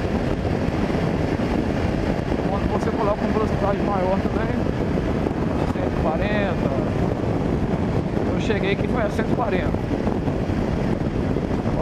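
Strong wind buffets the microphone while a BMW G 650 GS motorcycle rides at speed, a constant loud rushing roar from start to finish, with someone talking through it.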